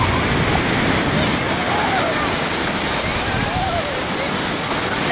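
Surf rolling onto the sand at Clearwater Beach, Florida, a loud, constant broadband wash of waves with no clear breaks, close and enveloping.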